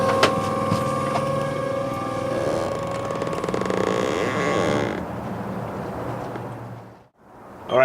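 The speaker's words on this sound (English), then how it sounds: "You can hear the pumping gauge, and the motor turns all by itself." Raymarine EV-150 autopilot hydraulic pump steering a 300hp Evinrude E-Tec G2 outboard on a boat: a steady mechanical whine and hum under engine rumble, close, cutting out near the end.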